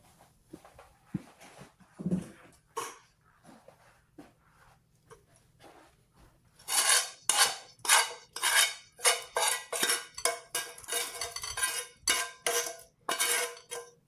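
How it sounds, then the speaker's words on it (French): Vegan lardons and onions being stirred in a pan, with a quiet stretch of light taps before rhythmic, fairly loud scraping and clattering strokes of a utensil against the pan, close up. "Je vais y mélanger ensuite mes lardons végétaux et les oignons"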